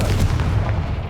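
A Confringo blasting-spell explosion in the video game Hogwarts Legacy, one loud close boom with a deep rumbling body that fades over about a second.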